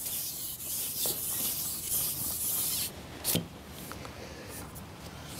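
Small hard pellets patter and hiss onto water in a dense, sustained spray of light splashes, with one brief louder splash partway through.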